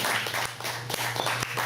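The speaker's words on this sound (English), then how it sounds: "let's give another round of applause for Isaac Zavala" A comedy audience at the Bloo Hookah Lounge gives comedian Isaac Zavala a burst of applause, a dense, close wash of many hands clapping steadily through the short stretch.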